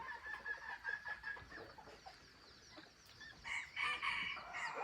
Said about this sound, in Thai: นั่นไงไก่แม่ น่าจะไข่สุดแล้ว